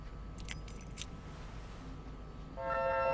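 A ring of keys jangles in a few quick shakes in the game Life is Strange: Before the Storm, then a faint car horn sounds near the end.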